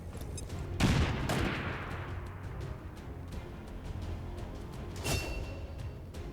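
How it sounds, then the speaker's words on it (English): XCOM 2 combat: a grenade blast with a sharp, booming explosion followed by a decaying rumble, then a second burst of gunfire, amid steady background game noise. "Throwing grenade."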